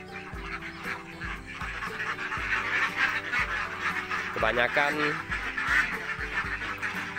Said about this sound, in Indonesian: Ini kita lihat pagi-pagi yang sebelah sana itu bebek betina